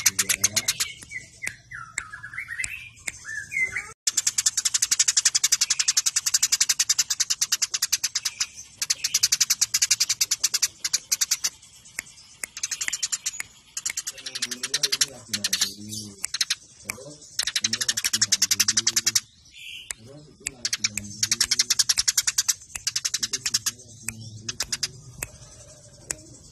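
Fighting Javan sparrows (burung gereja) call in rapid, bursty chirps and chattering trills. The dense volleys come close and loud, broken by short pauses.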